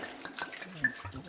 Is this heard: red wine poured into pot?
yes